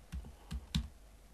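Three soft, spaced keystrokes on a computer keyboard while a file name is typed for an export, close and quiet with low thumps under light clicks.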